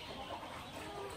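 Chicks and hens raised from a home hatchery, including birds born with defects, clucking and cheeping in a steady, moderately quiet cluster throughout, with soft broadband farmyard noise behind them.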